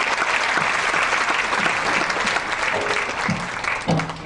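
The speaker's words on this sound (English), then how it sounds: "Big round of applause for Cheryl, too." Audience applause fills a comedy show or event hall, steady dense clapping held throughout, loud and close, with no voice over it.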